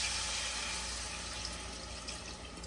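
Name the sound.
pouring a glass of water into fish curry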